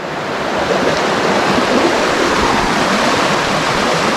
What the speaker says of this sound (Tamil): இதில் தான் அந்த சின்ன ஒரு ஃபால்ஸ் இருக்குது